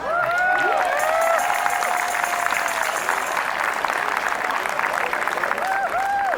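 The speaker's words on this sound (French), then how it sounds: "Belle main d'applaudissements." Crowd applause and cheering at a lively Quebec event after a singer's performance. The clapping runs dense and loud throughout, with whoops and voices mixed in and some music or tones faintly over the top.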